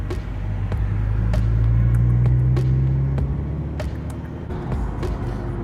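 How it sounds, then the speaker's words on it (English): Heavy highway traffic rolls by in thick fog on an East Coast drive toward Delaware, a continuous low rumble of car engines with repeated vehicles passing close and a steady road drone. "Got a lot of traffic"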